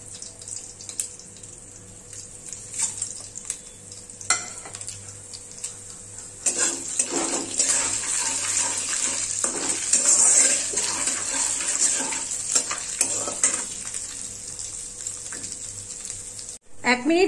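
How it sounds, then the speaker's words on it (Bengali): Whole cumin, dried chilies, cinnamon, cloves and crushed cardamom fry in oil over a low gas flame, giving a steady close sizzle with occasional clatter that grows busier midway. "এক মিনিট ধরে এই ফোড়নটা একটু ভেজে নিলাম গ্যাসের ফ্লেমটাকে লোতে রেখে"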